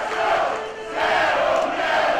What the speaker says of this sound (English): They haven't stopped chanting "Zero Fear" since the beginning of this match.